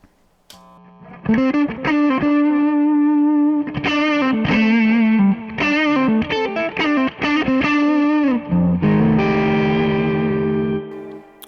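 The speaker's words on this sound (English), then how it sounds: "Let's see how it sounds with a little bit of overdrive on there." Overdriven electric guitar plays a riff of chords and single notes with a gritty, sustained tone, ending on a ringing held chord.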